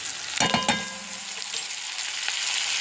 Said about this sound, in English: I'm going to add a little bit of minced garlic